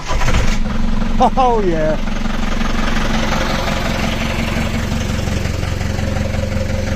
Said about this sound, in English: This is why I wanted to use that engine. It is such a nice engine. It just starts every time.